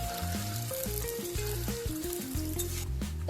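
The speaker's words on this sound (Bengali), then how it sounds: "এবার পেঁয়াজটা ভেজে নেবো লাল লাল করে" Onions frying in oil in a pan while a Bengali duck curry is cooked, a steady close sizzle with soft stirring and scraping underneath.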